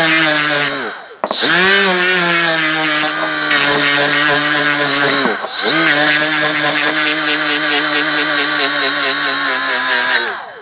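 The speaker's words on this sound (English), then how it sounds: "you use the die grinder like I did" A high-pitched die grinder whines steadily, dipping and revving back up twice as it polishes a metal chainsaw piston, loud and close.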